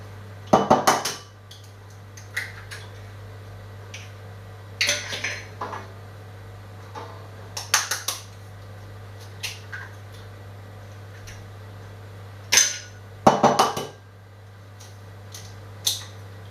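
Four eggs cracked one after another into a mixing bowl, heard as a series of sharp clinks and taps against the bowl rim spread irregularly over several seconds, fairly close, with no talking.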